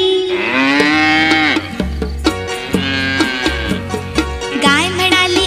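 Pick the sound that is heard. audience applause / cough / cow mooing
cow mooing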